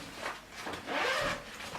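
A zipper on a beach bag is drawn in two quick rasping pulls, close and fairly quiet, with no voices.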